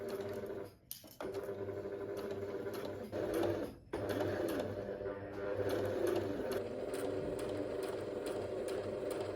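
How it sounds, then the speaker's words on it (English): A sewing machine stitches a dress strap down through all its layers close to the edge, running steadily for several seconds with a couple of brief pauses, under faint background talk. "Next up, I'm going to sew the strap down."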